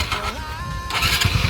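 A Hero Glamour motorcycle engine is cranked and catches, its exhaust rising briefly and then settling into a close, throbbing idle with an uneven putter.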